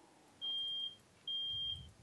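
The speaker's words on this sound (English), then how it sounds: "The fire alarm." A fire alarm beeps in two long, steady, high-pitched tones separated by a short gap, fairly clear above a quiet room.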